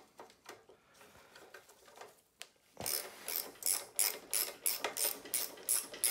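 A ratchet with an 11 mm socket loosens a rusty clamp on a 602 cc Citroën 2CV engine. Soft, sparse clicks come first, then a loud, close run of rhythmic ratcheting strokes.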